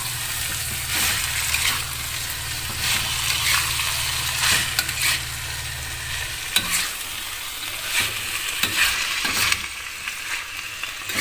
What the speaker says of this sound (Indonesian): Kemudian tumis.